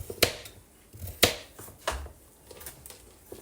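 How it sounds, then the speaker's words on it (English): A knife chops carrots in a home kitchen: a few sharp, separated thwacks on a cutting board about a second apart, fairly close, with quieter clatter between and no talking. "violently chopping carrots."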